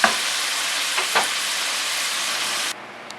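Bacon spread out in a pan, frying and crisping with a steady loud sizzle and a few pops, which cuts off abruptly near the end, with no talking.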